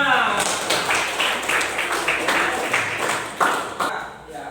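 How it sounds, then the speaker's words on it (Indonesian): A class in a floor gymnastics lesson claps hands together in a few loud, rhythmic bursts of group clapping, close and lively, fading toward the end. "Ya, tepuk tangan buat kita semua."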